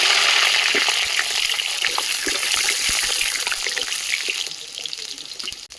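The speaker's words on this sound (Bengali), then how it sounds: "এই যে দেখো আমার কড়াইয়ে তেল দেওয়া হয়ে গেছে, এবার আমি আলুগুলো ভেজে নেব" Potatoes frying in hot oil in a wok for biryani give a steady, close sizzle dotted with small crackles, easing off slightly toward the end.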